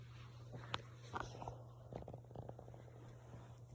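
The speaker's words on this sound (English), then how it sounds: "Leg Sleeper, just doing her thing, being a cat, sleeping a lot." A female cat purrs softly and steadily, close by, with a few faint clicks and rustles of movement and no voice.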